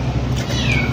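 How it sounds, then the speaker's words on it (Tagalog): A cat meows in a home kitchen, one drawn-out, fairly loud cry heard up close over a steady low background hum. "Meow!"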